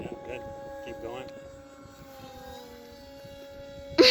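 A radio-controlled model airplane engine drones steadily on a windy day, a sustained tone with slight pitch drift, while people talk faintly in the background and a gust or louder burst hits near the end.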